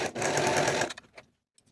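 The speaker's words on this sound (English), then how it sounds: "Then I'll sew those back sleeve seams with a 1/4 inch seam allowance." A sewing machine runs in a short, fast burst while stitching the back sleeve seams of a raglan top, then stops, followed by a few faint clicks of fabric handling.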